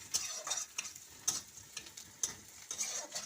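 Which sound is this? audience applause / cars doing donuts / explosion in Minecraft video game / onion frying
onion frying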